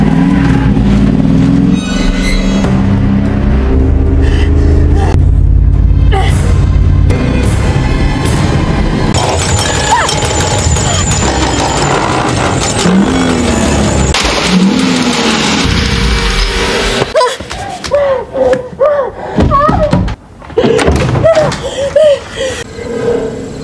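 A car tears away from a film scene in a loud, dense mix of engine roar and revving, layered with crashes and action sound effects that ease off toward the end.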